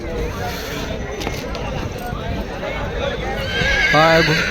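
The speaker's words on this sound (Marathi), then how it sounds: "हा हा घोड्याचा आवाज होय माय" A horse whinnies loudly near the end, a rising then falling neigh, over a busy background of crowd noise and hoof clatter at a horse market during the Malegaon fair's livestock show in Nanded, India.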